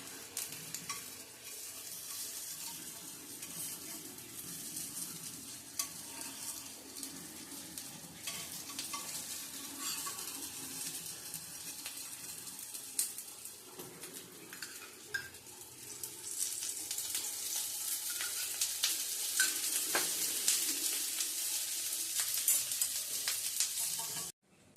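Kothmir vadi, a coriander fritter, frying in oil with a continuous crackling sizzle that grows denser and louder toward the end, no talking.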